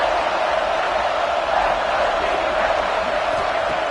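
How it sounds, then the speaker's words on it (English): A dense roar rises from a packed football stadium crowd during a third-and-goal play in a UCLA versus Georgia game, a steady wall of noise from a distance with no single voice standing out. "And here comes the noise. This crowd is trying to inspire this defense to make a big red zone stop."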